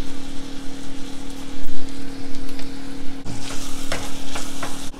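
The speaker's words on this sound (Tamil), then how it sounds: "வெங்காயம் நல்லா வதங்கட்டும்." Onions fry in hot oil with curry leaves and salt for a Tamil kaara kuzhambu, giving a steady close sizzle with stirring scrapes that brighten into a louder, busier crackle partway through.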